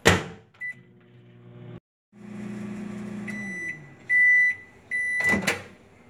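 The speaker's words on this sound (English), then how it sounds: "Probably won't want to microwave it again." A microwave oven hums steadily while running, interrupted by a pause, then a series of sharp electronic beeps near the end alongside a door clunk, all close by with no talking.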